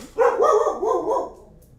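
A single dog bark indoors, loud and close, drawn out into a roughly one-second howling bark that fades off, with no talk over it.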